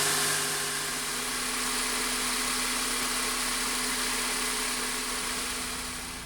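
Honda Accord engine idling as it warms up after radiator and hose replacement: a steady, low mechanical hum with a faint hiss, constant for several seconds and easing slightly at the end, with no voices.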